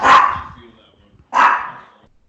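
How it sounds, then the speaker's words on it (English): A pet dog barks twice in a home, two loud close woofs about a second apart with a short gap between. "My dog's out, so it got noisy."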